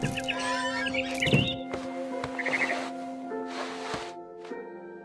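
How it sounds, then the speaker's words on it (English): A barn swallow in the video game What Remains of Edith Finch gives a few short, bright chirps over sustained musical tones from the game's soundtrack. "I heard chirping outside my window. It was a barn swallow going back to her nest."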